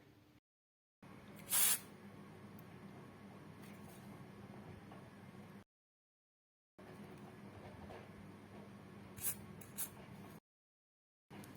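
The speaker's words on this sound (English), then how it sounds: "Now we will spray the disinfectant spray" Disinfectant spray hisses in one sharp burst onto a laptop keyboard, then a fainter second spritz later, against a quiet background.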